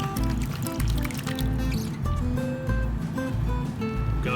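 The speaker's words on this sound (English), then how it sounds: "So we'll go and pan them out and see if there was any gold in there." Gold concentrates being swirled in a pan of water, with rhythmic sloshing and splashing close by and faint gravel rattling, repeating in waves, no talking.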